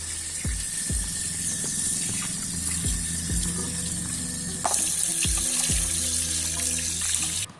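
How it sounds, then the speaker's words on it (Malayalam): Tap water splashes steadily while clay roof tiles are washed, with several sharp scrapes and knocks of the tiles being handled at regular intervals, close and moderately loud. "അപ്പൊ ഇനി നമുക്ക് ഈ ഓടുകളൊന്ന് കഴുകി എടുക്കാം."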